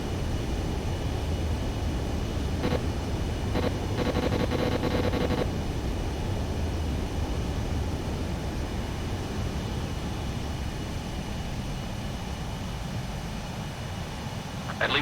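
A jet aircraft lands in the video game Ace Combat 7 Skies Unknown, with a steady, loud engine roar throughout and a few brief mechanical clicks partway through.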